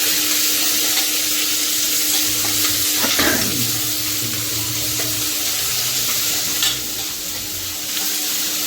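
Onions frying in oil for mushroom biryani, stirred in the pan: an even, bright sizzle with a few soft scrapes, steady and close, with no voices.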